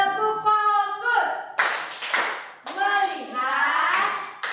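Children in a classroom chant the Indonesian 'tepuk fokus' clapping game, standing together; sung, voiced phrases alternate with bursts of sharp, rhythmic group hand claps, close and lively.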